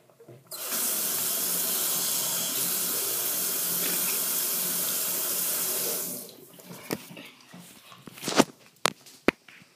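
A sink tap runs water steadily and fairly close for about six seconds, then shuts off, followed by a few sharp knocks and light movement sounds.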